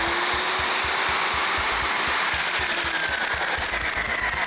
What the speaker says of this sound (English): you want to reverse the drill. Hold the trigger